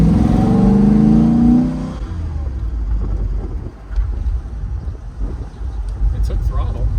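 A Guanci SSJ prototype car engine takes throttle in a brief rev, a rising roar that fades into a rumbling idle with wind noise while people talk nearby.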